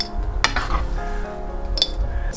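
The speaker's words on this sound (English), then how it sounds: "Add some dried mint, thyme, and chamomile. Then mix." A blend of dried mint, thyme and chamomile being stirred, a soft continuous scraping with two sharp clinks of a utensil against the container, close and fairly loud.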